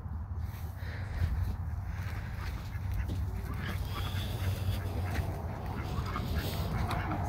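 Faint duck quacks scattered over a steady rumbling background noise, somewhat distant and irregular.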